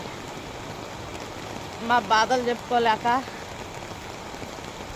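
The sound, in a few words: rain falling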